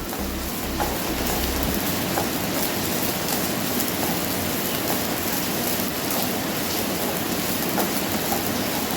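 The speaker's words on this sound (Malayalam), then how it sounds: "ഇതെല്ലാം കൂടിയിട്ട് നന്നായിട്ട് നമുക്ക് ബ്രൗൺ ആയിട്ട് വറുത്തെടുക്കാം" Onions and curry leaves fry until brown in a pan for a soya masala, giving a continuous, even sizzle and crackle at close range, with no talking.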